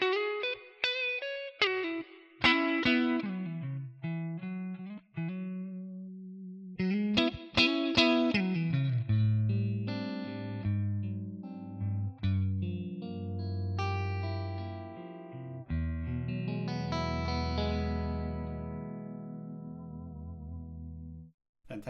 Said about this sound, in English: Also, I would like to hear some reverb, so I put the plate in